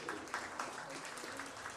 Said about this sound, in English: Let's give these kids a round of applause.